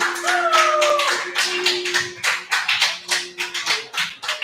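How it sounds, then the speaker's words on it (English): An open mic audience claps, fairly close, in a loose uneven rhythm that settles into distinct repeated claps, over a low sustained hum and a brief whistling tone early on. "Clap it up to JT Moore"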